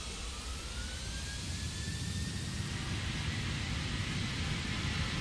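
Jet engines on the biggest plane in Microsoft Flight Simulator spool up on the runway at full power, a steady broadband roar with a faint rising whine, fairly quiet and unbroken.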